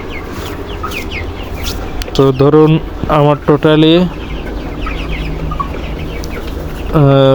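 Chickens being weighed give short clucks and squawks in a few close bursts while someone talks over a constant background hum.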